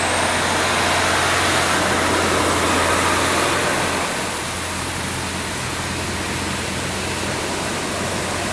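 Truck engine running steadily with a constant low hum and broad roaring noise, like riding in a long-haul truck on the road, loud and continuous throughout and easing slightly partway through.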